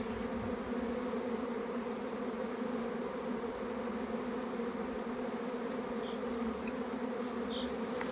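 A honeybee swarm flying back into an empty hive outdoors, a dense, constant droning buzz of many bees at close range, steady throughout without breaks or voices.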